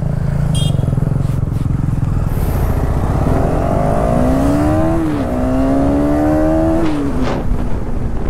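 A KTM Duke 250 motorcycle engine revs hard and loud at close range as the rider sets off, the pitch climbing and dropping through gears over a steady roaring drone, with no talk over it.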